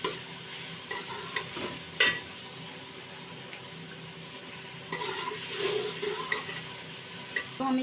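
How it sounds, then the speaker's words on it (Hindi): Garlic ginger paste fries in a pan, giving a steady, moderate sizzle with occasional scraping stirs and a few sharper clinks of the utensil against the pan. "लहसुन अदरक का पेस्ट डाल के हम 1 मिनट के लिए इसको भूनेंगे।"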